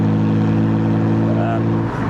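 A BMW 125i with the N52 engine drives along at a steady cruise, its loud, even engine hum and road noise filling the cabin without a break, with someone talking over it.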